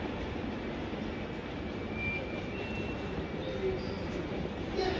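A train pulls into a London railway station with a steady, loud rumble of wheels and carriages that builds slightly, with faint high squeals and a hum of station ambience.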